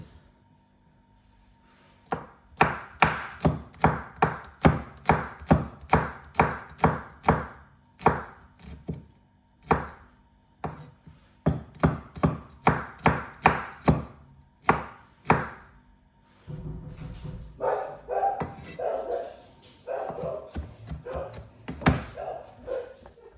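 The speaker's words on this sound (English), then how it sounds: "I'll carry on chopping the garlic." A knife chops garlic on a board in quick, steady runs of sharp taps, pausing briefly between bursts, close and clear with no talking.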